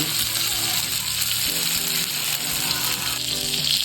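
Masala-coated Sankara fish fries in a pan with a little oil, producing a dense, steady sizzle close by, while a faint hum of voices or background tones sits underneath.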